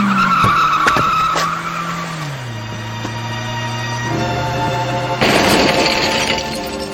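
Taxi cab tires screeching in a radio drama sound effect, a loud skid with falling engine pitch, then a burst of crashing noise near the end, close and with no talk.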